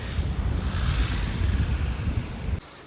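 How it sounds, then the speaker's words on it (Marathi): A small waterfall near Jaswant Garh, in the high mountains near Sela Pass, gives a steady, loud broadband rush of water mixed with wind. It drops abruptly to a quieter hiss near the end. "आम्ही लंचला थांबलो तिथे समोर एक छोटासा आहे वॉटरफॉल"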